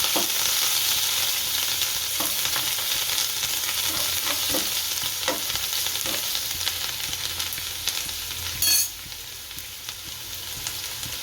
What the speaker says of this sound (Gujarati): આ લીલા મરચાં હારા ચડવા દઈશું।